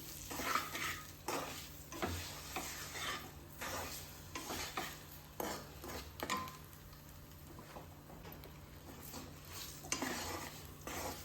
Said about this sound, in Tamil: பொறுமையாக மிக்ஸ் பண்ணுங்கள்